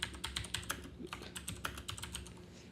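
Brisk typing on a Razer BlackWidow mechanical keyboard with Cherry Brown switches, a quick, uneven flurry of crisp key clacks heard up close with no talking.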